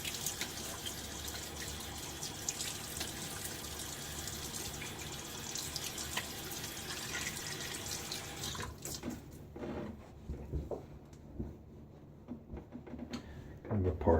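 Tap water runs steadily into a sink as a face is rinsed after a wet shave, a close, continuous splash that drops away after about nine seconds to quieter drips and small movements.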